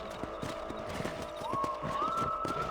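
Hooves clop at a steady rhythm in the Red Dead Redemption video game, over a low ambient bed of game sound, with a rising tone near the end.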